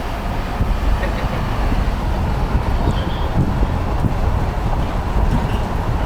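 Steady, loud wind roars through a half-open window of a moving bus on a test drive, a broad continuous rush mixed with rumbling road and engine noise, with no speech.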